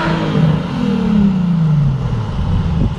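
A Nissan 350Z HR with a full titanium Tomei exhaust revs hard and close, its loud engine note climbing and then falling back in one sustained rev.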